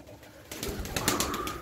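Pure white show pigeons of one bloodline flap their wings and coo close by, a quiet start building into a busy flurry of rapid wingbeats and soft calls with no talk.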